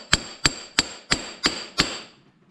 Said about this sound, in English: smash the nut down onto it